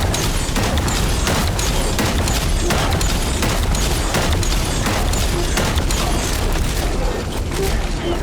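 Sustained gunfire and booming explosions from the video game The First Descendant roll on loud and dense throughout, with a voice talking over the din.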